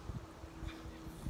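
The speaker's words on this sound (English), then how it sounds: "Sorry if it's getting windy." Wind buffets a microphone outdoors in low, uneven rumbles and gusts, steady and close, with no talk.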